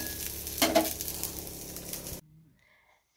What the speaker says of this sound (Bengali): রুটির সাথে খাওয়ার জন্য এখানে আলু ফুলকপি ভাজা করছি।